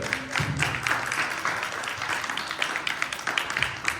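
An audience at a school class debate claps for both the affirmative and negative sides, a steady patter of many hands from a mid-sized crowd lasting throughout.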